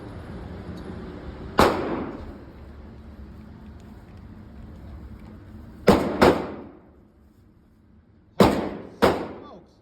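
Five loud, sharp unsuppressed rifle shots firing 7.62 rounds at a shooting range, one alone and then two quick pairs, each crack trailing into a short echoing decay over low background rumble.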